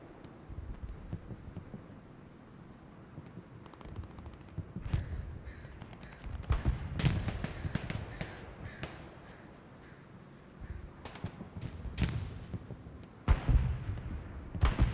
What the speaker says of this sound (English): Not the best bombing run at all from him. No real threat on that bombing run.